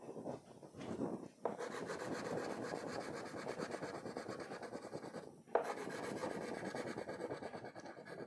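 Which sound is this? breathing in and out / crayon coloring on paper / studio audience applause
crayon coloring on paper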